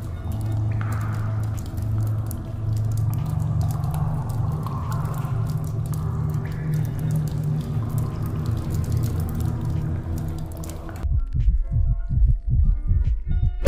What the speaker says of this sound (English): apparently these are sound effects relating to the ice castle and how it's melting